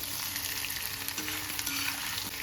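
Potatoes frying in hot oil for a Chettinad potato fry give a steady, dense sizzle that stays close and even throughout, with no voices.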